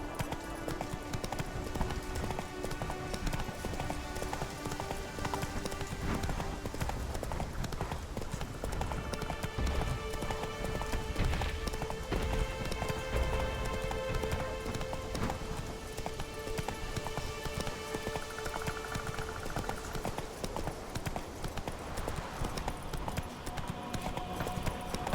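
Roach, the horse in The Witcher 3: Wild Hunt, gallops steadily with a rapid, rhythmic clatter of hooves held at an even loudness for over twenty seconds, under a droning game music bed.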